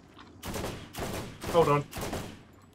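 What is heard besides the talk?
gunfire shooting another player in Borderlands, video game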